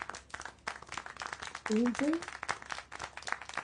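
Scattered clapping in Syberia: The World Before, in quick irregular claps at moderate volume, mixed with a voice speaking and a brief sung or whistled tone.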